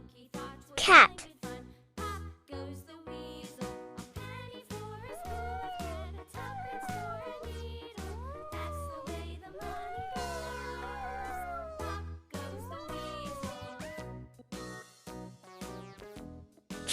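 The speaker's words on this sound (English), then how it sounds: "Cat." A cat gives several clear, close meows in a series of short rising and falling calls over soft rhythmic background music.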